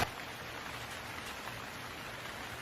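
Heavy rain pours down as a horror-story sound effect, a soft, steady hiss of many drops that stays level from start to finish with nothing else heard.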